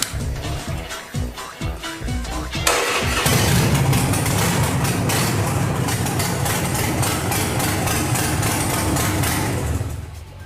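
A big motorcycle cranks over and catches, then settles into a steady, moderately loud idle that holds for several seconds before fading, with a little talk early on.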